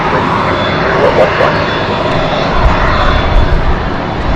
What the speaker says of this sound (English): It's just under a year old, this aircraft that we're watching.